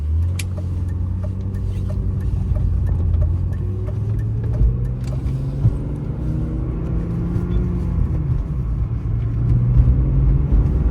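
A 1998 BMW E36 M3 with a freshly replaced clutch drives along, its engine a steady low rumble heard from inside the car, pitch rising and falling through gentle acceleration, with no talk.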